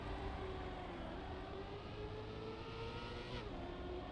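A car engine in a racing video game drones steadily under load through a drift, with a sustained tone that wavers slightly in pitch and stays loud throughout.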